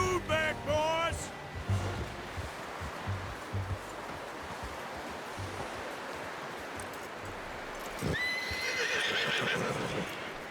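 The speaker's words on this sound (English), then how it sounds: "You should really tether that horse" A horse in Red Dead Redemption 2 whinnies loudly at the start, then quieter hooves and outdoor ambience follow before a second shrill neigh near the end.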